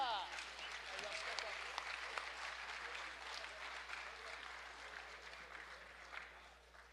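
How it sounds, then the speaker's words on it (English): Audience applause at a high school football banquet, a quiet, even patter of clapping from a roomful of people, sustained for several seconds with a few voices murmuring underneath. "please join me one last time in giving these ladies a round of applause for all that they do"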